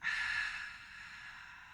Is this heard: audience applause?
no